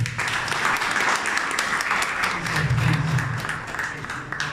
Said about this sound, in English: we all clap your hands and welcome him